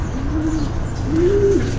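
A homing racing pigeon just back from a race gives soft, low coos, two drawn-out calls heard close and clear against a quiet outdoor background.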